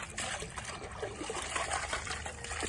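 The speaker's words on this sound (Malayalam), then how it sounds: "രണ്ട് ചെസ്റ്റ് പീസും രണ്ട് ലെഗ് പീസും എടുത്തിരിക്കുന്നത് അപ്പൊ നമുക്ക് കഴുകട്ടെ നന്നായിട്ട്" Two raw chicken breast pieces and two leg pieces are rinsed under running water, giving a steady, close trickle and splash that continues without pause.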